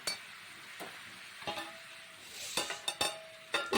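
Spinach is stirred in a pot with scattered metallic clinks and scrapes, then a metal lid is set on and clatters, giving several sharp knocks near the end over a faint background hiss.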